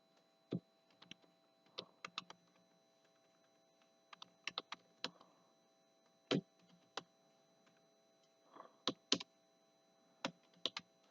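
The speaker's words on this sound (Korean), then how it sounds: "키보드에 컨트롤 키 누르고" Sparse, sharp key clicks from a computer keyboard, with the Ctrl key pressed during 3D shape-modeling work, arriving in small irregular clusters against a quiet room.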